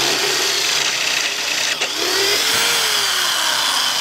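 A power drill whines continuously at close range, its pitch dipping briefly mid-way then rising again as it bores hinge holes into a wooden cabinet door.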